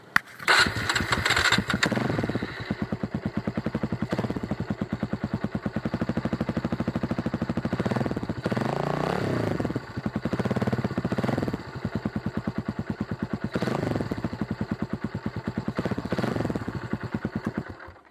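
A modified W175 motorcycle engine idling and revving nearby, its exhaust giving a deep, throbbing rumble with a few throttle blips, steady throughout with no talking.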